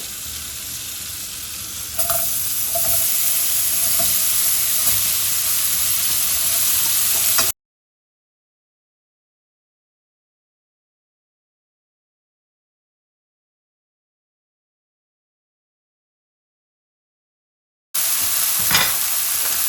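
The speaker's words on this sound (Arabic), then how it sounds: "بالبداية راح احمص البصل، قطعته شرائح طوال" Long onion slices sizzle steadily in a frying pan for chicken fajitas, a dense close hiss with faint scraping that drops to total silence for about ten seconds before resuming briefly at the end.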